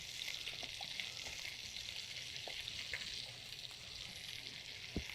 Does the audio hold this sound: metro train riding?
no